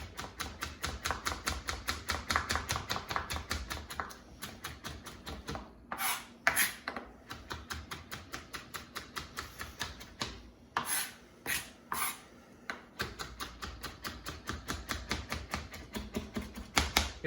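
A knife mincing cilantro on a cutting board for a relish, fast steady rhythmic taps repeating close up, with a few brief pauses and scraping sounds as the blade is cleaned off.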